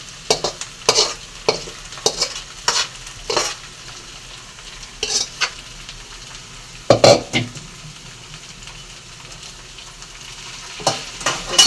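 Onions and curry leaves sauté in a pan, a steady sizzle punctuated by repeated sharp spatula scrapes and stirring clatter, loud and close.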